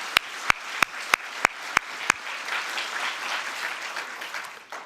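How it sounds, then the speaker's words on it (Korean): A church congregation applauds the choir at a Sunday worship service, starting with several sharp, evenly spaced claps up close, then swelling into a warm, dense wash of clapping from the whole room that gradually fades. "우리 성가대에게 우리 따뜻한 박수를 우리 함께 드리겠습니다"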